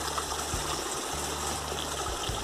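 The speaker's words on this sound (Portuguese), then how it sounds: "aqui um rio" A river flowing down from a waterfall on a rural smallholding, a steady, close rush of water that runs without a break.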